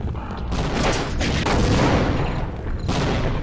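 Rocket launcher blasts in Sven Co-op, loud booming explosions with rumbling tails filling the space, close and heavy, one burst rolling into the next.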